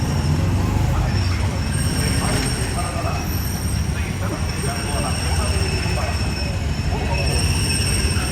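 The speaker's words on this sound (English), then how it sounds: "There goes the monorail." The Disneyland monorail rolls past with a sustained rumble and faint wheel whine, loud and continuous for several seconds, while people talk nearby.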